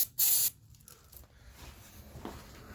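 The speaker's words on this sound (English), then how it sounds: "You're gonna spray all the hinges in the middle." Lubricant sprayed from a can onto garage door hinges: one short, loud hissing burst near the start, followed by faint handling noise and room tone.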